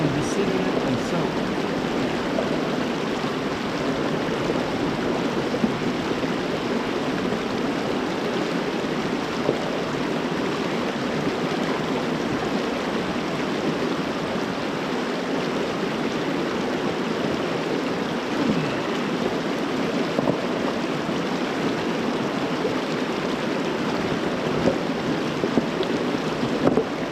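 Truckee River water pours steadily into a bathtub rebuilt from river rocks, a continuous close rushing and splashing flow with no voices.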